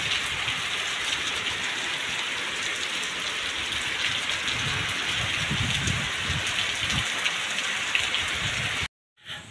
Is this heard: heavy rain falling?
yes